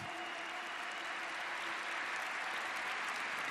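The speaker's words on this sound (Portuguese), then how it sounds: "pode aplaudir com força" A church camp audience applauds loudly and steadily for several seconds, a dense, even wash of clapping with faint crowd murmur.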